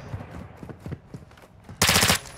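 A burst of rapid automatic gunfire from the first-person shooter Warzone 2.0, loud and dense for about a third of a second, with scattered fainter shots and thumps beforehand.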